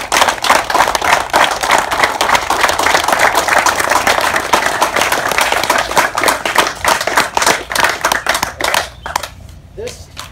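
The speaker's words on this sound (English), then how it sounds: "Give them a round of applause." A crowd applauds veterans at an outdoor gathering, loud clapping that rolls steadily before thinning into a few sparse claps near the end, with voices talking underneath.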